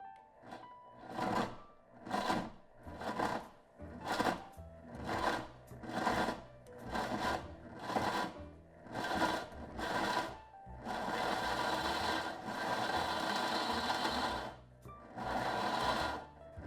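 A food processor chops dates and raisins for a vegan chocolate cheesecake crust, its motor whirring in short, regular pulses about once a second, then running in longer continuous bursts, close and loud with no talking.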